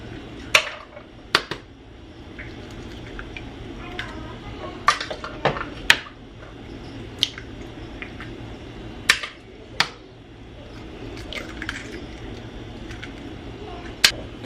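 Eggs get cracked into a bowl one after another in a home kitchen. Sharp, crisp shell taps and clicks recur at irregular intervals over a quiet room background.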